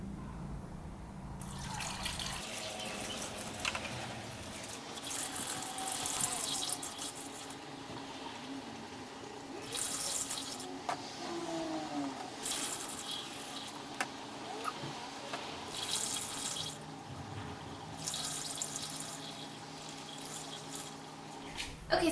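Coolant is poured into a car radiator during a coolant flush and thermostat replacement, a steady liquid filling sound running throughout, with some engine-bay and shop noise mixed in.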